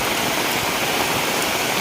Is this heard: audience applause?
no